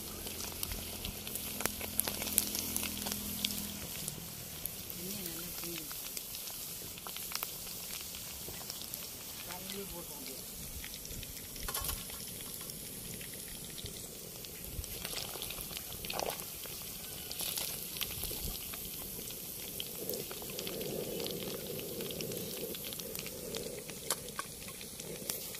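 Ribbon fish frying in oil in a pan, a continuous dense crackling sizzle that holds steady throughout, close and fairly quiet, with no talk.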